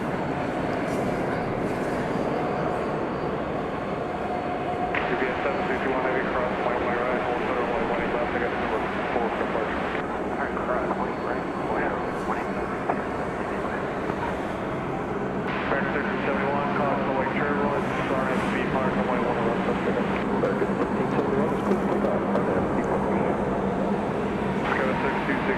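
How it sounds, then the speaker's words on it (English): A Boeing 767-300 at DFW Airport at night, its engines a steady, loud, broadband roar that persists throughout, with radio chatter heard underneath. "Another 20th century aircraft for your perusal. 767-300"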